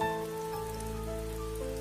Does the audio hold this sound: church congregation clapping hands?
no